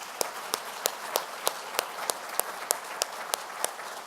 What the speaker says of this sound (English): Let's go ahead and give them another round of applause.